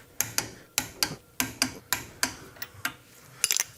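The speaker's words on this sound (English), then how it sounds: "We need to go ahead and torque these to 85 foot-pounds. So I'm gonna grab my gear wrench, torque wrench." A torque wrench ratchets bolts down to 85 foot-pounds during brake installation on a 1926-styled Nova project car, giving a series of sharp, close metallic clicks in an uneven rhythm with a quick cluster at the end.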